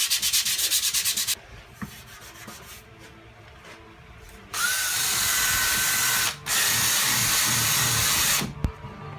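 Sanding guide coat off Bondo body filler on a car panel: a steady, close abrasive rasp in long bursts, with a quieter stretch in between and a short pause before the final pass.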